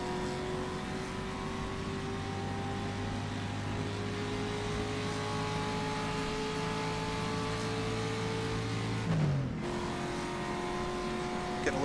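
A 1956 race car engine in rFactor 2 at Monza holds a steady, sustained drone with rising harmonics, then shifts abruptly near the end, a close, continuous in-car tone.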